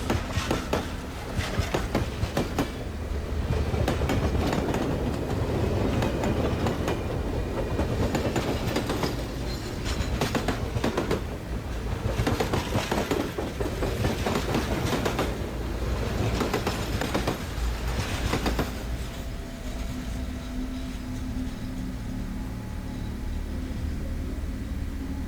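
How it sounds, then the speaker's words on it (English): A large steam locomotive rolls through a tunnel at about 20 miles per hour, giving a steady, loud rumble with rhythmic clanking and rattling of cars that goes on without a break. "The train was traveling at approximately 20 miles per hour"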